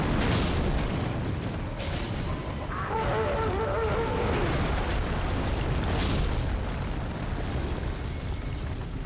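A burning enemy in Elden Ring erupts amid dense, loud booming and roaring fire, with a couple of sharper bursts near the start and middle and a brief clattering rattle in between.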